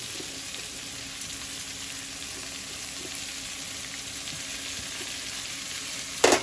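Onion and other ingredients sizzle steadily as they fry in a pot, a constant close crackling hiss with no talk, ending in a brief louder clatter.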